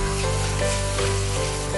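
Crushed masala frying in coconut oil, a steady close sizzle with faint stirring, no voices, for a Kerala kappa and ayala mulakittathu dish.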